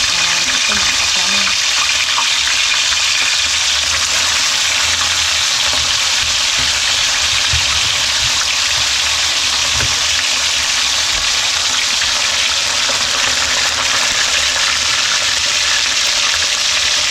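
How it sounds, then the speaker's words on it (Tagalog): Fish sizzles and crackles steadily in a hot pan, a dense continuous frying hiss close up that carries on throughout with small pops and stirring. "Simulan na natin magprito."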